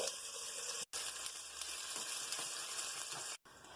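Sausages frying in a pan give off a dense, steady sizzle, close and even, with two very brief cuts of silence and no voices.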